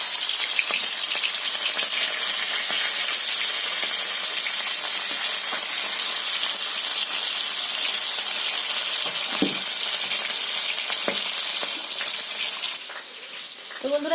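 A fish fries in hot oil in a wok, giving a dense, steady, close sizzle that runs on with faint pops and ticks before quieting near the end, with no one speaking.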